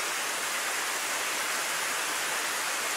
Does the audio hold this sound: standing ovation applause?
no